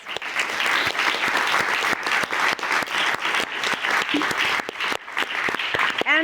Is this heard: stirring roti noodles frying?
no